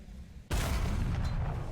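A Breda 501 cannon fires in the tank game War Thunder, a single sudden loud blast with a rolling, rumbling tail after a brief quiet lead-in.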